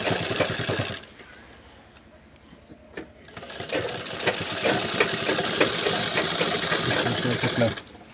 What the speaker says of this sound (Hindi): और किस तरह से मैं सिलाई कर रहा हूँ